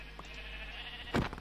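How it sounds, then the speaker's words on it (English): A sheep in the video game Minecraft gives one short, loud bleat near the end, after a quiet, steady game-ambience stretch with a faint earlier blip. "Yeah, you made a baby sheep."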